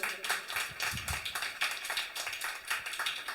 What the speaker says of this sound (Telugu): సరే గట్టిగా చప్పట్లు కొట్టండి